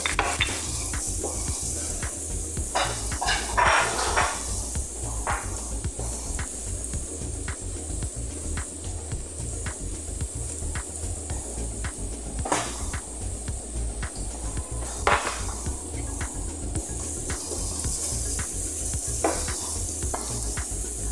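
Ginger and garlic sauté in a hot pan for pepper steak, giving a steady, close sizzle throughout with repeated scraping stirs and occasional louder clinks of utensil on metal.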